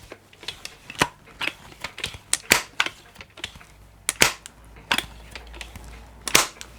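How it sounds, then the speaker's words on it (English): A Crosman 2200 Magnum multi-pump air rifle being pumped indoors: a series of sharp mechanical clacks and strokes in an uneven rhythm, close and fairly quiet, with no talking. "pump the gun up"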